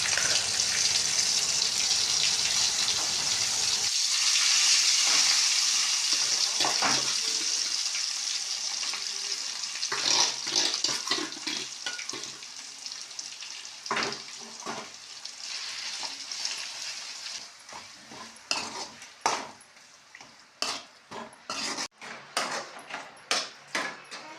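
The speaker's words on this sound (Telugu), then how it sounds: "ఇప్పుడు మనం గ్రైండ్ చేసి పెట్టుకున్న పచ్చడి ఉంది కదా పచ్చడిని కూడా యాడ్ చేసుకొని మిక్స్ చేసుకుందాం" Ground ivy gourd chutney with garlic sizzles in a frying pan; a hissing fry at the start gives way to quieter frying punctuated by repeated scraping and clattering stirs.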